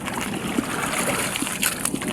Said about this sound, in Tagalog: nagsimula na naman ang hangin at alon guys oh.